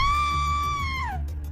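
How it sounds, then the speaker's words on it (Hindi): A person screams from outside, one sustained high cry that holds steady and then slides downward before cutting off, heard over a low background rumble. "तभी बाहर से किसी के चिल्लाने की आवाज आई"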